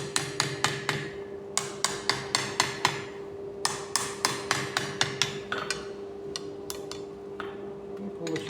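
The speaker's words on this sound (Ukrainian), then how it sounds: "Я отак бачите, молоточком, потихонечку." A small hammer taps metal in quick, regular strikes while hand-forging a metal shoehorn, bright ringing clinks in steady bursts with short pauses, up close with a steady hum behind.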